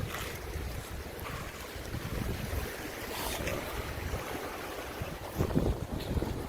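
Whitewater River flowing steadily beside a trail campsite, a broad continuous rush of water mixed with gusty wind noise on the microphone, with no one speaking.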